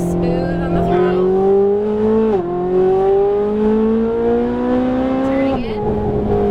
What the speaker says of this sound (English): So keep accelerating, staying left, hard brake.